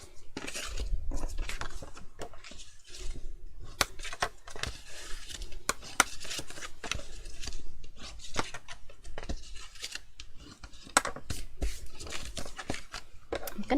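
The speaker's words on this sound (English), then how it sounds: "I'm going to move to my smaller scissors now." Scissors snip through paper card for a craft gift box, a long run of sharp, irregular cutting clicks and rustles at close range with no talk.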